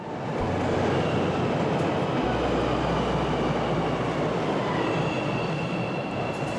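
A subway train runs steadily underground for several seconds, a loud continuous rumble of wheels on rail with faint squeal, no voices.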